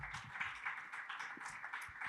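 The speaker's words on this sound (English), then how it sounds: "Another round of applause for Irwin and Ambassador Ray." Audience applauding at a panel event honoring upstanders fighting for justice, a steady, faint patter of many hands clapping, fairly distant, with no voices over it.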